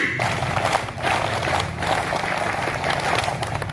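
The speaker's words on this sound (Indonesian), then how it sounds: "Tepuk pramuka." A school class performs the rhythmic scout clap, tepuk pramuka, in a dense sustained patter of many hands that carries on steadily with some voices mixed in.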